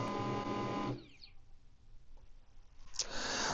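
An HP LaserJet MFP M140w printer starting up: a close, steady mechanical whir runs for about a second, stops for a quiet pause, then starts again with another burst of motor and paper-path noise.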